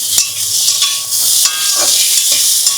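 Pumpkin pieces tossed into a hot pan, a loud continuous frying hiss broken by several sharp knocks and scraping stirs, heard up close with no one speaking.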